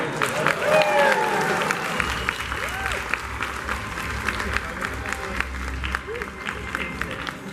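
An audience at a convention event gives a round of applause for Roy, a dense wash of clapping that gradually thins out, with faint voices murmuring beneath it.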